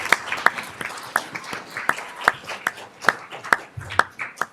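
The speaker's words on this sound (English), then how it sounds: "Let's give a final round of applause to our students" Scattered applause at a school board meeting, a small audience clapping unevenly, with distinct individual claps standing out over a softer patter throughout.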